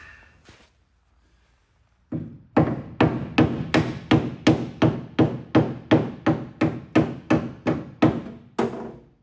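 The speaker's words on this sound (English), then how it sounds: "Looks like I can get in there with a hammer and tap on that a little bit." A hammer strikes a car quarter panel during bodywork repair, about sixteen loud, evenly spaced metallic blows in a steady rhythm, close up with no talking.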